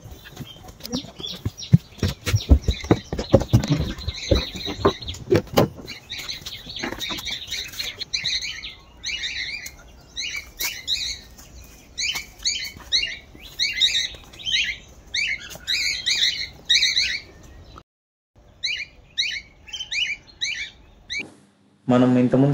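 Birds in aviary cages at Divya Ramam park in Tirupati give bursts of bright, repeated chirps in a steady rhythm. The calls come after a stretch of rustling and movement noise and carry on at moderate distance.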